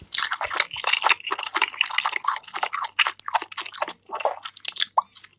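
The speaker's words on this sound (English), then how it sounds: "That's a lot of chewing you're doing there." Close, loud mouth sounds of someone eating: wet, squishy chewing and crunchy bites in a quick, irregular rhythm, with no talking.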